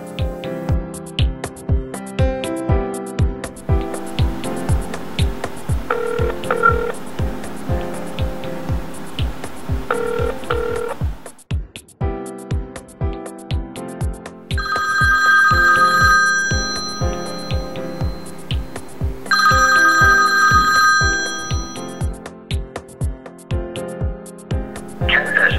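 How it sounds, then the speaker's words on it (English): An iPhone 4S rings with a repeating electronic ringtone in long, loud, rhythmic pulses, pausing briefly midway before resuming with brighter chiming tones, set against steady music. "You can dial and answer calls."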